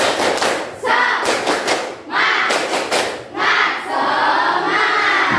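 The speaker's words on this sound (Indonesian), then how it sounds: "Tepuk semangat." A classroom of students performs a rhythmic spirit clap, with bursts of unison clapping, thumps and shouted chanting in repeated patterned phrases, loud and close.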